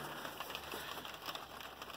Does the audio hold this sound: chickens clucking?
no